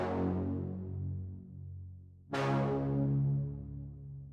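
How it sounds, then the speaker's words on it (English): A bright 80s-style synth brass stab chord from Studio One 5 rings out and decays, then a second sharp stab hits and sustains loudly, with no voices. "I ended up settling with a brass sound, and this is what that sounds like."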